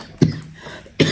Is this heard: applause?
no